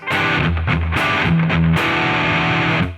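A heavily distorted electric guitar chugs through a short metal riff, loud and close, with palm-muted low notes alternating with sustained chords.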